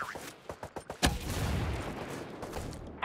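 Enemy gunfire in a Ghost Recon Breakpoint firefight: a rapid burst of several sharp shots followed by a heavy blast and a rolling, sustained roar of fire and debris, close and loud.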